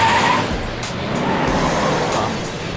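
A car in the video game GV drives loudly with a steady engine roar and brief tire squeal at the start, close and continuous throughout.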